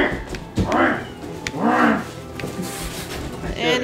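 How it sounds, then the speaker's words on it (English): A cat in the Sonic Boom: Rise of Lyric video game yowls in drawn-out, wavering cries, three or four loud rising and falling wails, with occasional thumps and players talking in between. "And he's terrorizing the cat."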